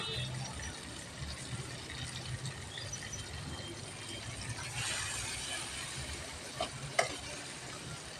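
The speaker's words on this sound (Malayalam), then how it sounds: "കടുകിന് ഫ്രൈ ആവട്ടെ" Mustard seeds fry in a pan on a stovetop for an eggplant curry, a steady, close sizzle with a few sharp pops and crackles near the end.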